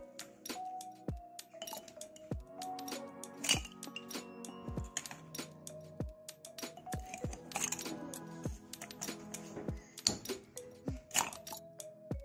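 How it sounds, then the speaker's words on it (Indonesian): Ice cubes drop into a glass of chocolate drink, making a rapid run of bright, close clinks and clatters, some clustered and some spaced out, with no voices. "Lalu masukkan es batu secukupnya."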